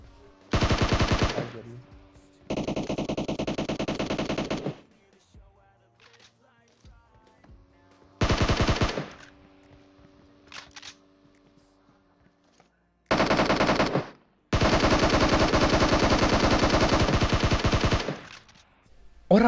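Loud, close bursts of automatic gunfire in the video game PUBG Mobile come in five separate volleys, from short rattles to one long sustained stream, with quiet gaps between them.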